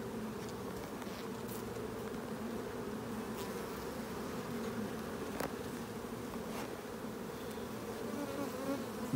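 A dense, steady drone of many honeybees buzzing together close by at a hive, continuous and even in loudness with no voices.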